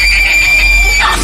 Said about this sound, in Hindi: उस लड़की के मुंह से एक जोरदार चीख निकली।